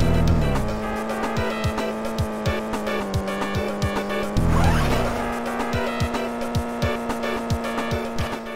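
Background music from the video game Homie Rollerz plays alone: a looping, repetitive tune with sustained tones over an even, regular beat, loud and steady throughout.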